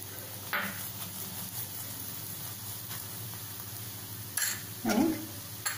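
A methi paratha fries in a little oil on a pan, giving a soft, quiet sizzle with a few brief louder crackles and pan scrapes near the end.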